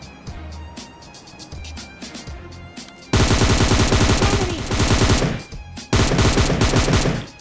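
A Beryl rifle fires in PUBG Mobile Lite, first as faint distant shots and then as loud, close, rapid automatic bursts with a brief pause between two long volleys.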